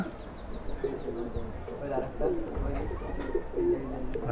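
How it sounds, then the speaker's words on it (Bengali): Pigeons landing nearby and cooing, soft repeated low coos with a brief fluttering of wings, close and fairly quiet. "এই যে আরো কবুতর চলে আসছে"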